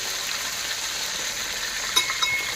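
Okra (lady finger) pieces stir-frying in a pan give a steady close sizzle, with a few faint utensil clinks near the end.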